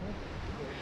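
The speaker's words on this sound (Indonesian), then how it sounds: "kencang anginnya, menderu-deru" Strong wind roaring across the Sabana 1 campsite on Mount Merbabu, a steady broadband rush buffeting the microphone, loud and continuous throughout the brief moment.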